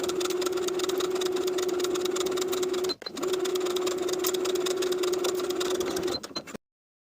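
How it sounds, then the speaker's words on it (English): A sewing machine stitches a rolled hem on a dress with a fast, even, motor-driven whir. It stops briefly near the middle, runs on again, then cuts off into silence. "Then I'll sew along the upper inner fold all the way around."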